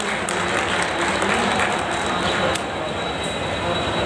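Loud, steady applause from a crowd at a railway workers' celebration of Babasaheb's birth anniversary, filling the whole moment with dense clapping and no break.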